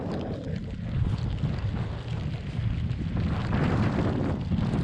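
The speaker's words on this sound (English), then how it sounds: "the wind has come now" Steady, blustery wind over Yorkshire farmland buffets the microphone, a continuous low rushing roar that swells slightly toward the end, with no voices.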